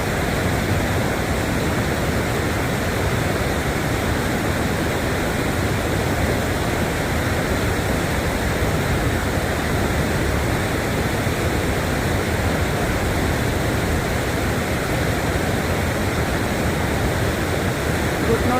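A rushing mountain river on the Gangotri to Gaumukh trek, knee-deep water roaring as a steady, loud broadband wash that never lets up.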